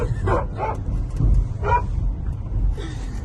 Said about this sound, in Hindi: हमारे पीछे बहुत कुत्ते भी भौंक रहे हैं